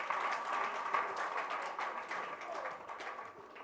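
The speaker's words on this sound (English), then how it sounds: "Well, can we give her a round of applause?" Moderate crowd applause at an International Women's Day public lecture, a continuous patter of many hands lasting a few seconds and slowly thinning toward the end.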